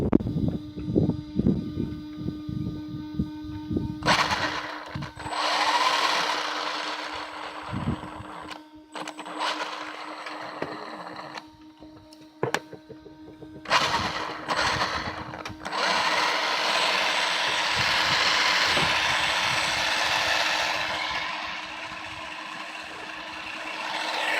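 Electric motor of an all-wheel-drive RC car running up close, with a steady whine that rises into long high-speed whirring stretches, broken by short pauses and by clicks and clatter.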